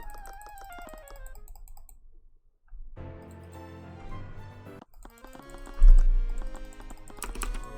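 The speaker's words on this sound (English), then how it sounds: "Yeah, I guess I'm just spam clicking." Rapid spam clicking and key pressing at a computer, a quick run of light clicks and taps set under game music with sustained tones, with a louder burst of clicks partway through.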